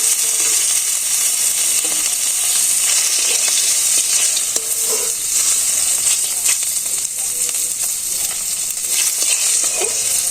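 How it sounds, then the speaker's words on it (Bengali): Fish fry in hot oil in a village kitchen in Bangladesh with a loud, steady, close sizzle and hiss, with occasional small pops and stirring clinks and no talking. "মাছগুলো ভেজে নিলাম"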